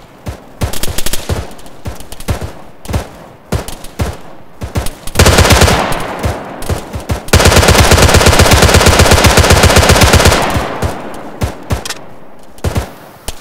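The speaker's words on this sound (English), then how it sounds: "I'm shooting above you" Automatic and machine-gun fire in an Arma 3 battle: loud, sustained bursts of rapid shots, broken by short pauses, then long continuous strings of fire that dominate the scene.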